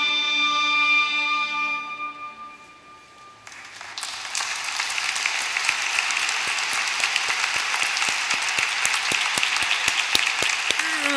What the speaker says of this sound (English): Clapping there